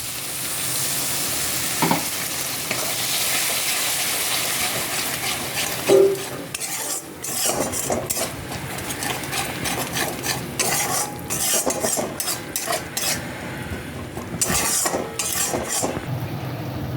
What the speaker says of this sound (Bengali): অল্প একটু জল দিয়ে কষাতে থাকবো